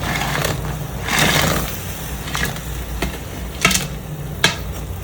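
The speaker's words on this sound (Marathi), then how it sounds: "उकळी आल्यानंतर आपण त्यामध्ये भजी टाकून घेऊया" Chana dal fritters dropped into simmering curry: a few soft plops and clinks over a steady bubbling sizzle, no talking.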